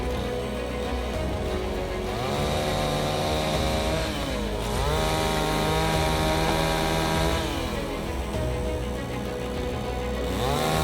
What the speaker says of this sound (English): we had to have them come over with their saw and cut a few of them off